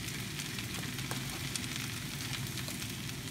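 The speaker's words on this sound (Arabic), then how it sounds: "هلا بس شافت الزيت والتوابل تفرفد" Spices in hot oil sizzle over gentle gas heat while savory samosa fillings are cooked, a steady close crackling hiss with faint pops, continuous throughout with no talking.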